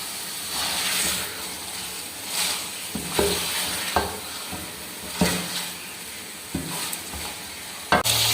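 Chicken pieces sizzle and fry in hot oil in a curry tadka while being stirred, steady hiss with scraping stir strokes and occasional clinks of a spoon against the pot, for a chicken salan.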